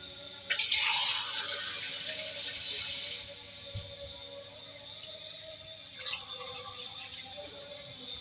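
Water pours into a pot of aloo chicken korma in a bright splashing rush for a few seconds, stops, then a second shorter pour follows.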